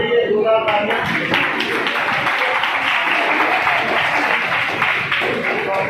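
Students clapping for performers at a convocation event at KMC Language University, the applause steady and dense throughout, mixed with crowd noise and some voices.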